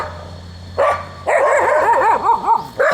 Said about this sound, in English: Look, we got some dogs over here coming to greet me in such a polite fashion.